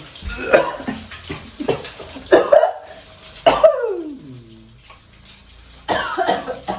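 A person coughs heavily in a few harsh bursts, close and loud, with a throat-clearing rasp and short pauses between fits.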